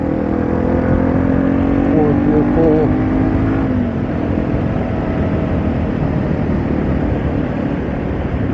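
A Yamaha TW200 motorcycle engine runs with a rough, steady drone and a brief rising rev, while someone talks over it.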